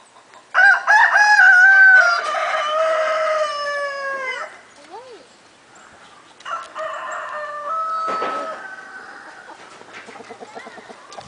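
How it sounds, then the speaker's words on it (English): Farm chickens cluck and a rooster crows loudly nearby, a long drawn-out crow followed by further crowing and scattered clucks, with a few brief voices mixed in. "Chickens."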